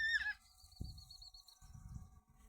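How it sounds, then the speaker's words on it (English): Black parrot with an orange spot on its head calling at Clovelly Cliffs, a brief shrill squawk at the start followed by faint rustling and low wind noise outdoors. "Super rare black parrot."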